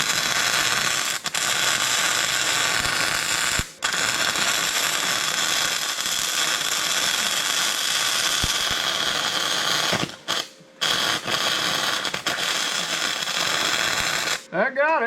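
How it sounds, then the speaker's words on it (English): A small flux core welder works on an OBS Ford F350 truck, giving off a loud, harsh crackling buzz in long runs with a few brief breaks, and a voice speaks at the very end. "I'm going to swap to this little flux core welder"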